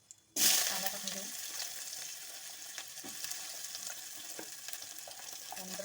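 Onion hits hot oil in a pan with a sudden loud sizzle that settles into a steady close frying hiss with small crackles, continuing on its own.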